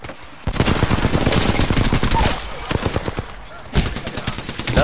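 Automatic weapon fire in the Apex Legends shooter game: rapid dense bursts of close, loud shots, a long stream followed by a pause and another sharp burst near the end.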